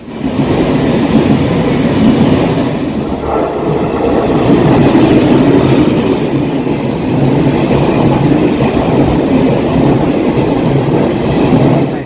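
An express commuter train to Bupyeong Station rumbles past steadily for several seconds on a rainy day, a loud, continuous rolling roar with faint rail clatter and no voices.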